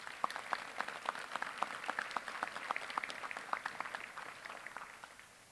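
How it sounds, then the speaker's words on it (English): Members of the Greensboro Fire Department are applauded by the audience at a police academy graduation ceremony, distant, fairly quiet clapping from a crowd with distinct individual claps, steady before slowly fading out. "please give them a round of applause"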